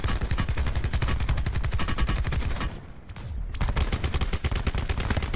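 Dense bursts of rapid automatic gunfire from Call of Duty: Blackout, loud and close, firing almost nonstop with a brief pause near the middle before the shots resume.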